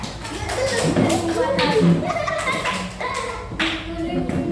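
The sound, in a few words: clapping for a classroom group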